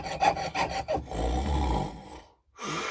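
A small saw or file rasping back and forth through metal to cut out the inside of a handmade jewelry bail, a few quick rhythmic strokes followed by a steadier scraping pass, close and alone, then a brief pause.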